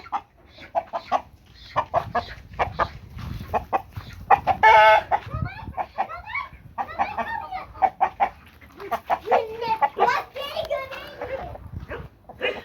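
Chickens cluck and squawk in bursts around a village farmyard, mixed with a rooster's calls, while a person talks in Turkish over them nearby.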